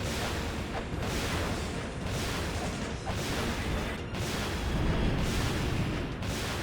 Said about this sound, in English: There's a lot of like explosion noises.